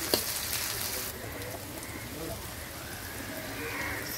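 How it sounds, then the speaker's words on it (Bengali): Chopped onion frying in a pan for a village-style duck curry, a continuous soft sizzle with a brief clatter at the start, steady and close throughout with no talk. "তো পেঁয়াজ কুচিটি ভাজা হচ্ছে।"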